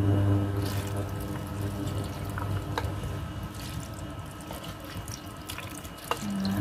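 Water being drained from cooked macaroni, with a steady running, splashing gush into a sink, close and continuous, joined by a few small drips and clinks.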